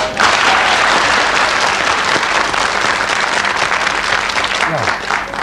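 Loud studio audience applause on an Icelandic Saturday-night TV talk show, dense and continuous clapping from a crowd that carries on throughout before tapering slightly.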